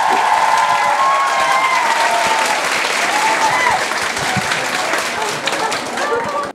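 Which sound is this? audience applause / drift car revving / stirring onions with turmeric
audience applause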